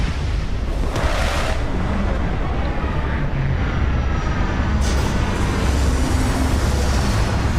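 A spaceship sets down on a barren rocky planet in Starfield, a loud, continuous roaring rumble with hissing thrust surges near the start and again partway through, holding steady to the end.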